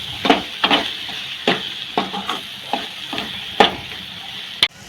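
A spoon stirs fish curry masala in a frying pan, giving a series of scraping strokes at an irregular rhythm over a soft sizzle, close up and alone.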